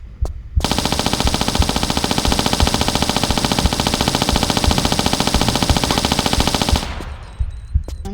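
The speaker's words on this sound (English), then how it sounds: "Let's use the Uzis again." Rapid, sustained Uzi fire in the Tomb Raider video game: a loud, dense stream of evenly spaced shots rattles for about six seconds, then stops abruptly and leaves brief scattered clatter.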